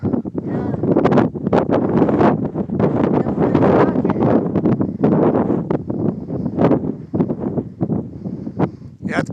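Strong wind buffets the microphone at a dry lake before a rocket launch, rough gusty rumbling that is loud and constant throughout.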